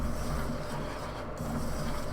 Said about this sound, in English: Mix it round with a spoon